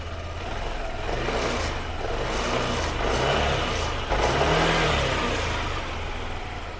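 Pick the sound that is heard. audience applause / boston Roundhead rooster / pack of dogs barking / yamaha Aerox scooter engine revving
yamaha Aerox scooter engine revving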